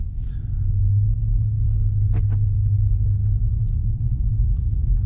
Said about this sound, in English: immediately you are welcomed by the sound of the V8, the silky smoothness of the V8.